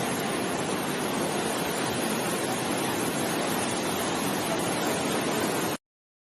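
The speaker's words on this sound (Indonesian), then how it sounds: "Video di atas merupakan banjir sungai." A flooded river in its upper reaches rushes past in a torrential, steady roar of heavy flowing water, loud and continuous until it cuts off abruptly near the end.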